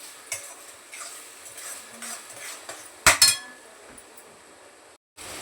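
A spoon stirs sautéing onion, tomato and capsicum in a metal pan, giving soft scrapes and light clinks, then a couple of sharp metallic clanks partway through, all fairly quiet with no voices.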